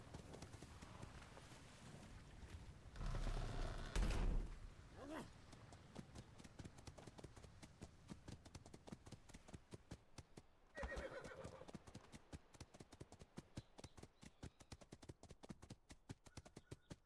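Horses' hooves clip-clop in a steady, rapid rhythm with a loud whinny rising partway through and a second neigh later, moderately close, with faint talk in the background.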